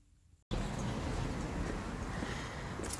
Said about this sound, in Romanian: pentru că este un vânt foarte puternic